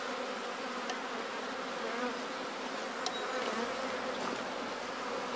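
Honeybees swarm and buzz around an open, queenless hive box during a beekeeper's artificial swarm split, a dense, steady hum that fills the whole clip with no voices over it.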